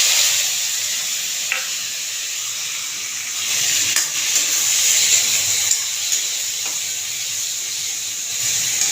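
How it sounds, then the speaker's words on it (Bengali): Dried red chillies, bay leaves, panch phoron and green chillies frying in oil in a wok for Bengali shukto give a steady, close sizzle and hiss that stays even throughout, with a few faint stirring clinks. "পাঁচ মিনিট ভাজা হতে থাক।"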